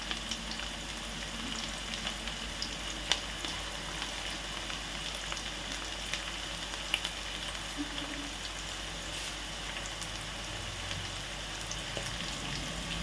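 Two or three green chillies fry in oil in a pan for Telangana-style fish curry, a constant fine crackling sizzle like light rain with occasional sharper pops, close but fairly soft, with no talking.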